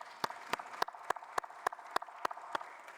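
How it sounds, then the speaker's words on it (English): Scattered applause at a water management congress, heard as about ten distinct, evenly spaced hand claps over a faint background, sounding like a few people clapping rather than a full crowd. "A big applause to everyone."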